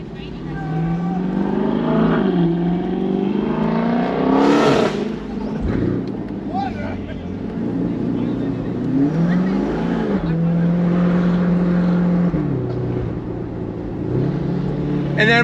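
A 2024 Chevrolet C8 Corvette E-Ray sports car's engine revs loudly and steadily, its pitch climbing and falling through several rises, with a voice talking over it.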